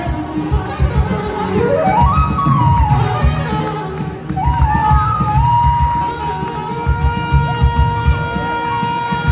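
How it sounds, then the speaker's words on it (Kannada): A crowd at a Ganesh festival event cheers, whoops and shouts loudly in a sustained roar, with an announcer's voice and sliding musical tones over the noise. "ಜೋರಾದ ಚಪ್ಪಾಳೆ ಬರಲಿ"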